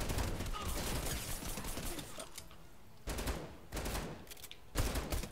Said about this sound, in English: there's someone shooting at me from behind